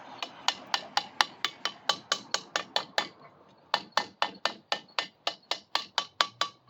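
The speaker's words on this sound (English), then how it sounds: "I'm going to tap, make sure my compressor is square." Steady series of sharp hammer taps on a piston ring compressor seated square on the engine bore of a Racer ProQuip 236cc small engine, about two dozen close, evenly spaced metallic knocks with a brief pause midway.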